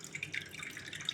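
Tamarind water trickles and drips over pieces of river fish in a bowl, a light close pour with small splashy droplets, no voices.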